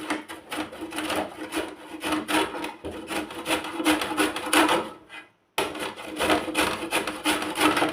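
Raw mango being grated by hand, a steady run of close, loud rasping strokes against the grater that pauses briefly about five seconds in before resuming, with no voices over it.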